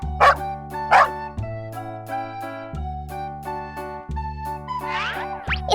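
A cartoon dog in a children's farm animal cartoon barks twice in quick succession at the start, then a playful tune carries on with a final yappy burst near the end.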